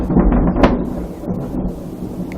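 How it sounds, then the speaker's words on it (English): Loud rumbling thunder from a lightning storm outside a house, with a sharp crack near the start followed by a sustained low roll that continues throughout, heard alone. "There is a lightning outside of my house."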